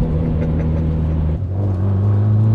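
A Mitsubishi Evo 9 with a full race titanium exhaust idles and revs, a steady deep rumble that dips briefly then swells again, close and alone.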